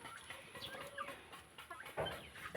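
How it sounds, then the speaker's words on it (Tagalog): Backyard chickens, including Rhode Island Reds and two hens, cluck in short, scattered bursts at close range with a few louder squawks, no talking. "Tapos ito naman ang mga manok ko."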